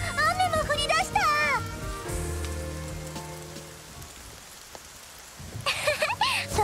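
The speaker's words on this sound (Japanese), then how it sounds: "わあ、雨も降り出した。" A thunderstorm downpour in Princess Connect Re:Dive on a summer day: a steady, dense hiss of heavy rain fills the middle stretch, with a voice talking before and after.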